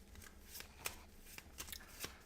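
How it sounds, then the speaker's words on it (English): Playing cards from a solo tabletop horror board game are shuffled back into the deck, a faint, soft riffling and sliding with a few sharper snaps, heard alone at low volume. "And so now these cards get shuffled back into the deck."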